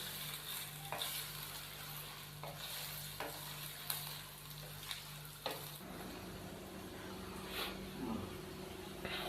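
Chicken frying in ginger garlic paste for a turnip chicken curry, a steady broadband sizzle with repeated scraping stirs, a low hum underneath that shifts partway through.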